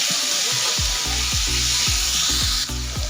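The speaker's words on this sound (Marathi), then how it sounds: "आता कांद्यासोबत ते सुद्धा आपल्याला परतून घ्यायचं आहे।" Finely chopped tomato and onion sizzle loudly in a hot pan as a spatula scrapes and stirs in repeated strokes, close up and continuous, with no talking.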